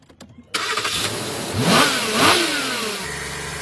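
A BMW engine cranks briefly, then catches and fires up, revving a couple of times before settling into a steady idle, close and loud.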